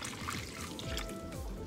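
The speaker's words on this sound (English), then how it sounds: "we're just gonna add some water" Water trickling and pouring into cornmeal for Cuban-style harina de maíz, a light, continuous dribble with faint splashing, close by and with no talking.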